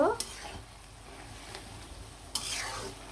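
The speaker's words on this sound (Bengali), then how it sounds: "মাংসগুলা আলুগুলা আর বটবুটিগুলো একদম ভাজা ভাজা করে একদম কষিয়ে নিব" Meat, potatoes and herbs frying in a pan with sauce, stirred now and then; a faint, low sizzle with two sharp utensil scrapes near the start and near the end.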